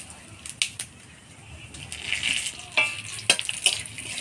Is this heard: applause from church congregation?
no